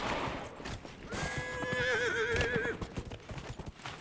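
Hooves clip-clop steadily while a horse lets out a loud, wavering whinny in the middle, with a rumbling background, in the video game Dragon Age: Inquisition.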